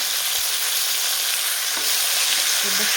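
Eggplant fries in oil with turmeric and salt, a steady loud hiss and sizzle filling the whole stretch without a break.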